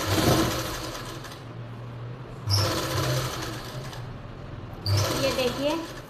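Sewing machine stitching a binding strip onto a blouse neckline, running in bursts with short pauses between them, someone talking over the steady motor whir.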